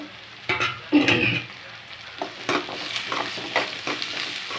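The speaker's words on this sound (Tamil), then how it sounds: "நல்லா நல்லா வதக்கி விட்டுக்கோங்க" Garlic cloves, about ten, sautéing and being stirred in a pan for Tamil kathirikai kara kulambu (brinjal curry), giving a soft sizzle broken by several louder scraping stirs near the start and middle, with no talking.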